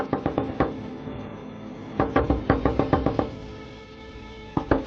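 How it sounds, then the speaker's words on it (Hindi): Someone raps on a window in quick bursts: a cluster of sharp knocks, a pause, then a longer run of rapid raps and a final short group, close and distinct against quiet. "खिड़की से खटखटाने और किसी के चिल्लाने की आवाजें आने लगी"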